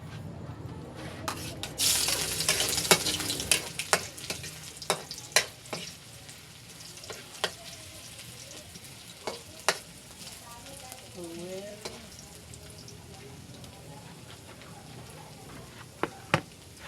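Escabeche frying in a pan, a loud steady sizzle with sharp scraping clacks of a utensil stirring throughout.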